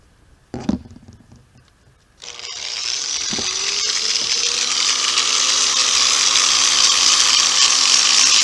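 An angle grinder starts up and runs steadily while polishing rock with an 800-grit pad, a loud sustained high whine after a brief clunk of handling beforehand.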